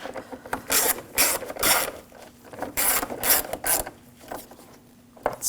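Screws being driven in and snugged down by hand while replacing the radiator on a 2007-2013 BMW 328i 3.0L inline-six, heard up close as a run of repeated ratcheting clicks in bursts, with no talking.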